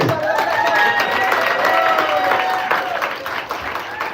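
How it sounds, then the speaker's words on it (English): A live television studio audience claps and cheers in a broad, steady wash of applause that stays loud throughout, with voices mixed into the crowd noise. "All right, clap it up, everybody"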